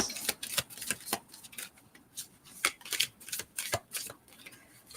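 A deck of cards is shuffled in a rapid series of crisp riffling bursts, close to the microphone, with brief pauses between passes.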